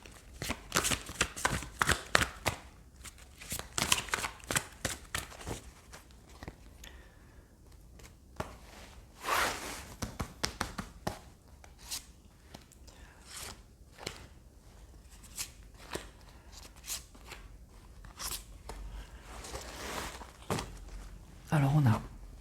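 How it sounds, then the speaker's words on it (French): Tarot cards are shuffled and laid out close by in rapid, crisp bursts of riffling and soft slaps, with pauses between handfuls. "on va prendre d'autres cartes pour voir un petit peu"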